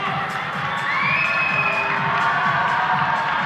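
A big crowd cheers and shouts loudly and continuously at a men's doubles teqball final in Podgorica, with whoops and children's voices rising through the steady roar.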